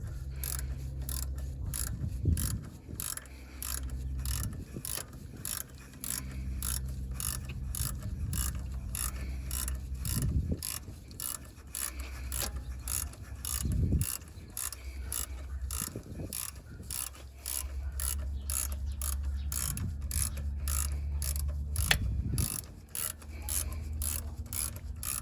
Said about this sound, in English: Let's go ahead and let the puller do its magic.